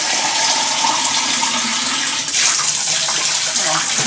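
Water poured from a jug into a fish tank, a loud continuous splashing gush that runs steadily for a few seconds, close by and alone.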